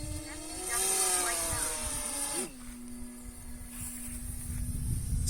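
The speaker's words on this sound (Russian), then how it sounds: "Все, самолет летит" A HEEWING T2 Cruza VTOL drone switching from hover to airplane mode, its motor whine sliding in pitch and then settling into a steady droning hum, heard at moderate distance with wind noise.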